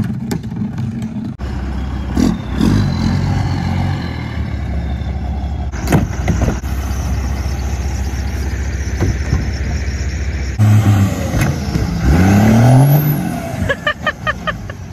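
A FEMA truck engine idling and revving, a loud, low rumble that rises and falls, with a sharp air-brake-like hiss, a couple of clanks and a rising rev near the end, faint voices in the background.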